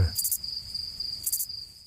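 A Texas field cricket's recorded chirp sequence: two short bursts of rapid high chirps spaced about a second apart, over a faint steady tone, with no talking.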